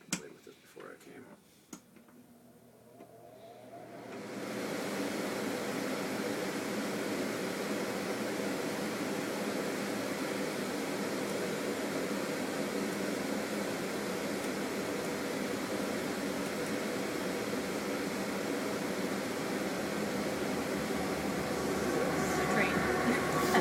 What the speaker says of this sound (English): I didn't think the air conditioner made that much noise